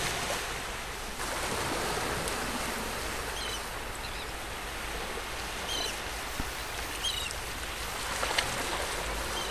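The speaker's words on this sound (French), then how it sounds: "Le bruit des vagues vous hypnotise et vous relaxe." Ocean waves wash in continuously along the shore of the Saint Lawrence with a broad, steady hiss of surf, rising slightly near the end, with no voices.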